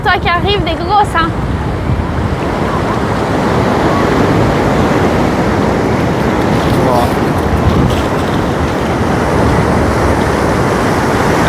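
Surf and waves wash up continuously on the beach at Oceano Dunes in California, with steady loud roar and wind buffeting the microphone; a voice speaks briefly at the start.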